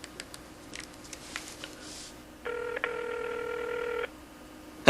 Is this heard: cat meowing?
no